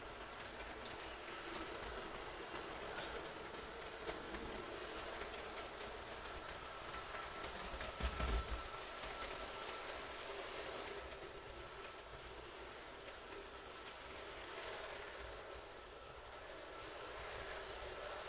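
A small HO scale model train hums and rattles steadily along its track while crossing a bridge, a continuous whirring drone with a brief louder clatter midway.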